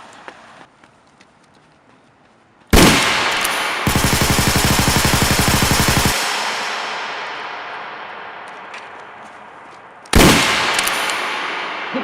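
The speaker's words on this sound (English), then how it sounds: "Provide you cover fire." Staged gunfire in an action short film, delivered as cover fire: a close, loud burst of rapid automatic shots lasting a couple of seconds, framed by sharp blasts that trail off, then another heavy blast near the end.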